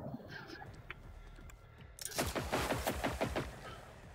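Rapid gunfire in Generation Zero, a burst of close, sharp shots in a fast rhythm that follows a stretch of quieter in-game ambience.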